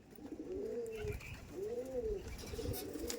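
Andhra pigeons offered for sale give two distinct, drawn-out coos close by, each rising and falling, with quiet faint background noise between them.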